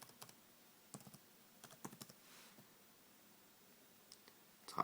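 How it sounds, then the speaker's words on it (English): A Sony Vaio laptop keyboard clicks under quiet, scattered keystrokes as a username is typed, with short bursts of taps separated by pauses and a louder cluster of clicks at the end. "Type in my username."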